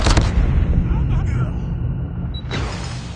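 Gunfire in a ranked shooter game, a loud burst of shots at the start, then a rumbling low boom that fades and a second sharp crack near the end, with voices over it.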